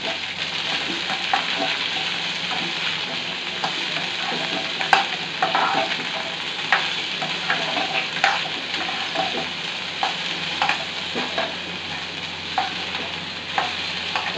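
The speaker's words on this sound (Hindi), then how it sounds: "भिंडी को हिलाएंगे।" Okra fries in a pan with a constant close sizzle, while a spatula stirs it with repeated light scrapes and taps against the metal.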